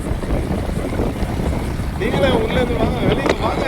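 Wind rushes in through an open car window on the Chennai Outer Ring Road bypass, a steady, loud buffeting roar that continues throughout while people talk over it.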